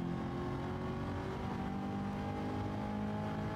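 Steady engine drone and whir from racing cars in a driving game, with a Lamborghini race car nearby and an '89 Corvette C4 ZR1 being driven, holding a constant moderate roar with no clear pass-by swell.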